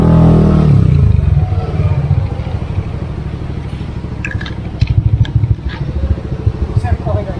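A Yamaha Aerox motorcycle runs at a vehicle testing area, its engine loud and close with a rough, pulsing idle and rattling, while brief higher sounds come and go.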